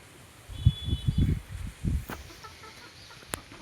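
Chickens cluck in a short close burst of several calls, followed by a brief rustle and a faint click.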